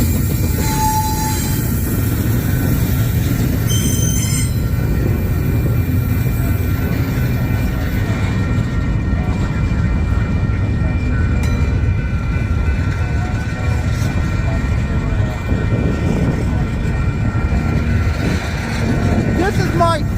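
Freight train rolling past in St Paul, a loud steady rumble of wheels and cars filling the whole stretch, with faint high wheel squeals early on.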